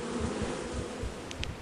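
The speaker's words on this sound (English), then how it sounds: "I see some bees over there as well." Bees in a modded video game drone in a steady low buzz that pulses gently, fairly close, with a couple of brief higher chirps near the end and no talking.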